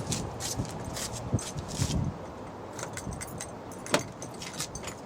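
Keys jingle and clink close by as a Honda Odyssey door is unlocked by key with a dead key fob, followed by scattered clicks and a sharp snap of the lock, with faint outdoor background noise.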